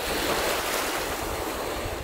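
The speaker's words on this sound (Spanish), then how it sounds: "Me encanta porque hay olas. O sea, es como un mar gigantesco." Waves washing steadily onto the shore of Lake Llanquihue in Chile, a continuous loud surf wash with wind noise buffeting the microphone throughout and no voices.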